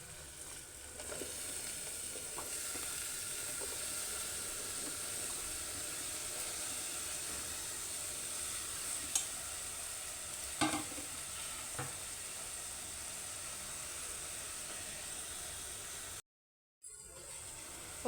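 Chopped ivy gourds frying in hot oil in a pan for an ivy gourd and tomato curry, a steady broad sizzle with occasional stirring scrapes. No one speaks. A brief silent gap comes near the end before the frying resumes.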